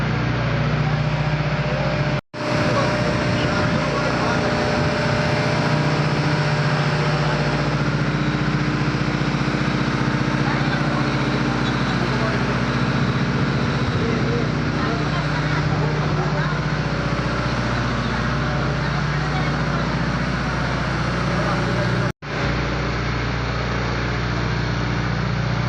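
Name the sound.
boat engine during boat trip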